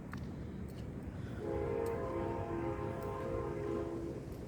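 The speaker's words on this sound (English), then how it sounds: "Oh, here comes a train." A train passes near a towing company yard, its steady rumble rolling throughout while a sustained horn blast sounds for a few seconds in the middle.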